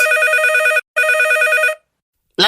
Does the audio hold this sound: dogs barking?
no